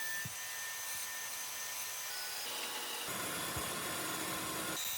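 Scrap wood being cut with a power tool for a small bathroom project, a steady broadband whine running continuously through the whole stretch at close range with no talking.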